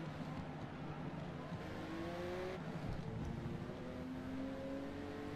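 A Jaguar XJ220 racing in an online A-class event in Forza Motorsport, its engine note climbing steadily as it accelerates, a smooth rising drone with a gear change midway, moderately loud and free of talk.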